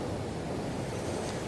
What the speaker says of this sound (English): can you just hear the sound of the sea?